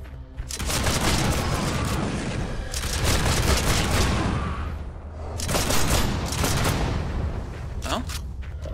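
Exploding barrels in Project Stray go off in three heavy rolling bursts of blast and crackling debris, each swelling and decaying over a couple of seconds with a voice faintly underneath.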